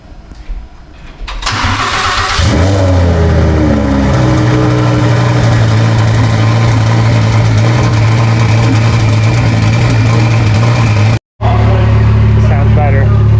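Twin-turbo Audi R8 engine on a dyno cranks and fires up from cold, then settles into a loud, steady, rumbling idle that runs on with a brief cut near the end.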